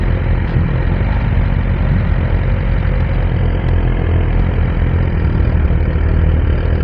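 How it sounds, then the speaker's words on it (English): A Suzuki GSX-R1000R motorcycle engine runs steadily at low revs, a loud, continuous rumble held close by for the whole stretch with no voices over it. "it sounds so different from the Naked bike because it's a different engine"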